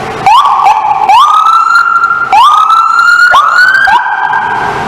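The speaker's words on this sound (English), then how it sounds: "we're going to turn the siren on." An emergency vehicle siren switched on close by, very loud, sweeping up in rising wails that repeat several times without talk.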